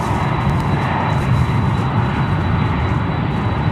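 United Boeing 787-10 Dreamliner at Chicago O'Hare, a loud steady jet engine roar with broad rushing noise, close and continuous for the whole stretch.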